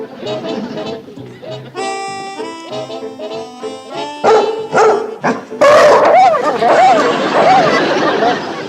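A man imitates a dog's bark with his voice, a run of yapping, bow-wow calls and whimpers delivered close and loud amid other voices and background music.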